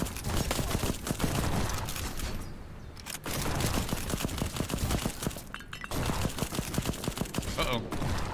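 Rapid gunfire in the video game Black Skylands, including sniper rifle shots from enemies, crackling in dense volleys through most of the stretch with brief lulls, loud and close, with talk mixed in.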